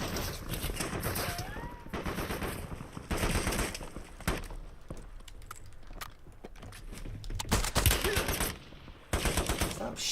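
Rapid gunfire from a Call of Duty: Black Ops 7 match, bursts of automatic shots crackling loudly and continuously through the clip, with short pauses between volleys.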